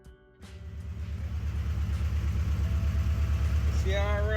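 A car engine cranks and then runs with a steady, slightly pulsing idle close by that grows louder and holds; a voice-like tonal sound rises near the end.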